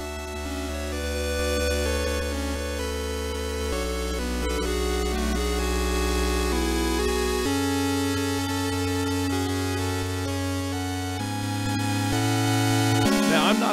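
Somber orchestral Shovel Knight music moves through slow, stepwise chord changes with a sustained low bass line, mournful and steady throughout.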